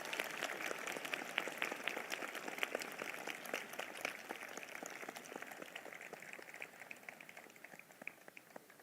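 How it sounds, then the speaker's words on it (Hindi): Congregation at a Sunday evening church meeting claps in thanks with a dense, steady patter of many hands, sounding somewhat distant and tapering slightly toward the end. "जिनको ये बात समझ में आ गई है वो ताली बजाकर धन्यवाद कर रहे हैं।"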